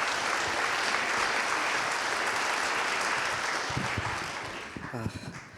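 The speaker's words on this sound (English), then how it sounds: "Please give him a big round of applause" An audience at a memorial gathering applauds in a long, dense burst of clapping that holds steady, then thins and tapers off near the end as a few scattered sounds poke through.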